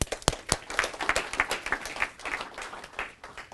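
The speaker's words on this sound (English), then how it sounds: "So a round of applause" Audience applause fills a talk venue, a dense wash of many hands clapping at steady loudness with a few sharper near claps, lasting a few seconds.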